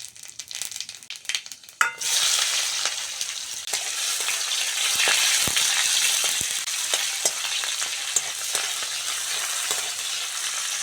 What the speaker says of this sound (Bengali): তেলের মধ্যে পাঁচ ফোড়ন দিয়ে দেবো